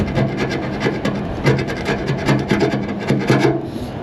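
Hand file scraping old paint off the metal body of a 1962 Chevrolet C10 pickup, loud and close, a steady run of rasping back-and-forth strokes with no voices.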